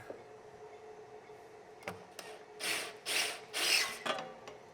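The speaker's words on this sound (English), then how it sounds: "I'll just take a round burr here in a drill and hit each one of those" Quiet mechanical clicks give way to three short bursts of high-pitched grinding from a small drill with a round burr chamfering holes in a Mercury flathead crankshaft, each lasting about half a second.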